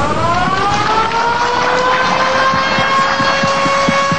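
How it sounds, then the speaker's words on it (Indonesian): A loud, sustained siren, sounded at a building inauguration ceremony in Indonesia, wails steadily, its rising tone holding over a dense background rumble of traffic and crowd noise. "Republik Indonesia melakukan penekanan tombol sirine."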